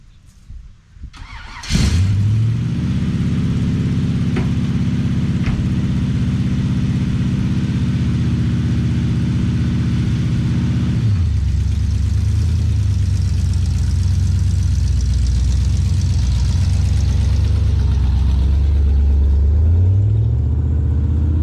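A 1968 Chevy Bel Air that sat unused for 8 years cranks and fires up, then runs with a steady, deep rumbling idle close by, its tone shifting slightly as the car is moved, with no talk over it.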